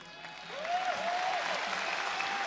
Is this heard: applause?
yes